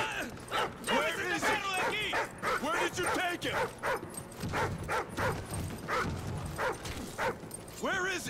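Riley, a dog in Call of Duty: Ghosts, barks repeatedly in excited bursts mixed with yips and whimpers, close and loud, with some talk underneath.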